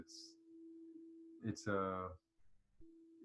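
A deep, steady C-note tone from a sound-therapy instrument hums quietly and continuously, dropping out briefly while a person speaks over it before the tone resumes.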